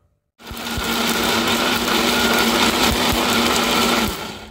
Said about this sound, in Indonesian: ini akan kita haluskan sampai benar-benar halus